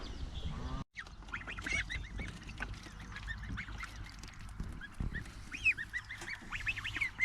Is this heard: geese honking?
yes